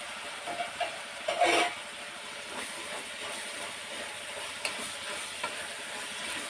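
A tempering with freshly chopped tomato sizzles in a pan, a soft steady frying hiss with a louder burst of spatter early on and a few light clicks of a spoon afterward.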